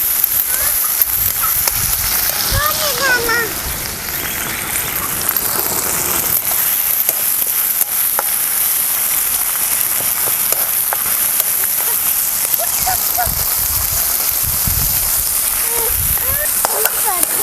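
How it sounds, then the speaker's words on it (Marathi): Chopped tomato sautéing in a pan while amaranth stem curry is cooked, a steady hissing sizzle running throughout, with occasional faint speech in the background. "टमॅटो थोडंसं मऊसपर्यंत आपल्याला हे परतून घ्यायचं"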